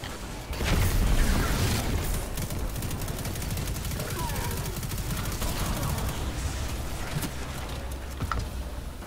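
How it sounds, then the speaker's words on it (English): Heavy gunfire in the shooter game Destiny 2, a dense continuous fusillade of rapid shots and bursts filling the clip, loud and sustained with small lulls near the end. "I was still just shooting at stuff for some reason."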